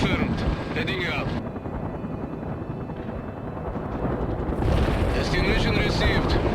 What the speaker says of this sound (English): Mi-24 on the way